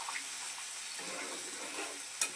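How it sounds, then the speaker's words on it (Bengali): Jackfruit chili is stirred in a pan just after water is added, with a soft continuous sizzle and faint scraping. A brief sharper clink comes near the end. "এঁচড়গুলো দিয়ে দিলাম, দিয়ে আর একটু নাড়বো।"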